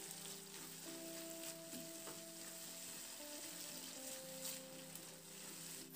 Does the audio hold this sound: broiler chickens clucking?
no